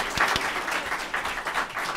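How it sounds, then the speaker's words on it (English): Audience applause for a panel at the launch of an internet freedom group, a steady round of clapping from a room of people, fairly close and continuous for about two seconds with no talk over it. "a big round of applause for our panel."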